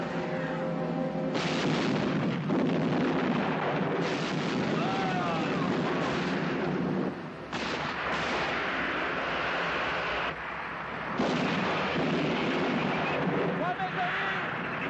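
Heavy artillery gunfire in a 1979 Warner Brothers war film, a long, dense, loud roar of blasts and rumbling battle noise that runs almost continuously, dropping briefly only twice.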